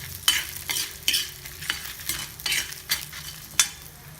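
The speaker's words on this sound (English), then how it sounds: "So they're getting fried, the dal." Dal and red chilies frying in a pan, a soft steady sizzle under rhythmic scraping strokes of a spoon, close and moderate in level, no one speaking.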